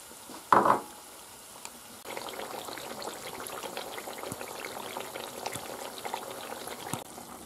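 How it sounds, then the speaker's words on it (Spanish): Chopped onion softening slowly in oil in a pan with potatoes, a steady soft sizzle and bubbling that settles in after a brief clatter near the start, continuing evenly with no voices. "Y la cebolla. Y se tiene que pochar."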